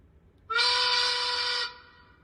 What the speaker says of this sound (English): Another great noon whistle.